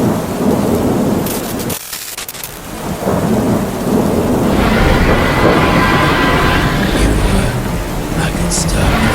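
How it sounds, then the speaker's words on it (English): Video game thunderstorm: steady loud rain with a heavy rumble of thunder, briefly dipping before the downpour swells again, continuous and close. "It's still stormy."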